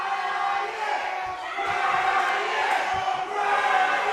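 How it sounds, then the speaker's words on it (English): A divided wrestling crowd at an XWA event chants and cheers in loud, rhythmic waves, a big-fight atmosphere filling the hall with pulsing voices. "If you listen to this crowd, it is rather divided."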